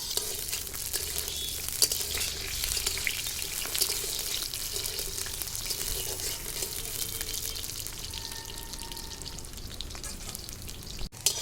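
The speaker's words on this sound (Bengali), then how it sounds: "এখানে আলুগুলো ভেজে নিচ্ছি।" Potatoes fry in hot oil for shukto, a loud continuous crackling sizzle close by, with a few light stirring scrapes and no talking.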